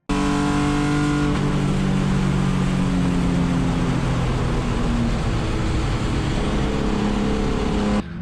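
A race car engine roars loud and continuous from inside the car while lapping a track, with pitch climbing and dropping through gear changes, then cutting off abruptly at the end.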